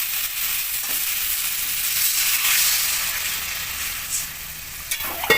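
Water poured into a pan of cauliflower frying in spice masala gives a loud, steady hiss of sizzling that swells and then slowly fades, with a few light clinks of a utensil near the end.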